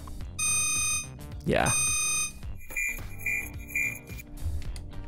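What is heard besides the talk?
UI warning alarm sound effects from BOOM Library Modern UI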